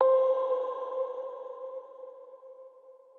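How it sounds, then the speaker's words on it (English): A single struck zombie bell one-shot sample from a drum kit rings with a clear metallic tone and a long reverberant tail that slowly decays over several seconds. "the bell that we ended up going for comes from the Beats by Trav 2K drum kit and one-shot kit"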